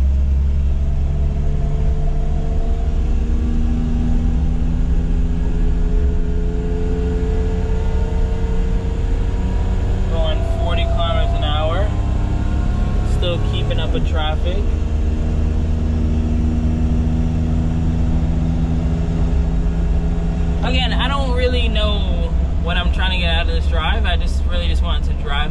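A Daihatsu Midget 2 three-speed kei car drives along with a steady, droning engine hum heard from inside, pitch shifting slightly through the run while someone talks over it.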